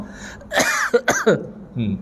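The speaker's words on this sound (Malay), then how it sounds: "Cakap banyak dah batuk ni" A preacher giving a sermon coughs several times close to the microphone, with a harsh throat-clearing burst followed by short hacking coughs and a brief vocal sound at the end.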